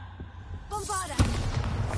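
A Bombarda spell explosion in the video game Hogwarts Legacy: a rising magical whoosh gives way to a sudden loud boom, followed by a rumbling roar of debris that stays loud to the end.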